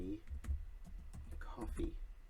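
Keys clatter on a computer keyboard in a short run of irregular clicks as a title is typed out, with faint low background noise beneath.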